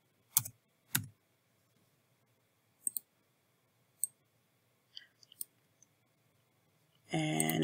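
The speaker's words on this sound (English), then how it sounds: "Add text. I'm hitting enter." Isolated sharp clicks on a computer keyboard or mouse in a quiet room, a handful of spaced taps spread over several seconds, ending in a sudden louder burst of sound.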